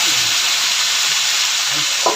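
Chicken pieces fry in a pan of hot oil, giving a loud, even, close sizzle that runs without pause. A small clink of a utensil comes near the end.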